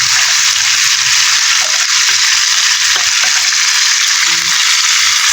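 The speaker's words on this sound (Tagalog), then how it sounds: "Naprito sa sariling mantika." Chicken frying in its own rendered fat, a loud, close, continuous hiss and crackle with a few small pops and clicks, steady from start to end.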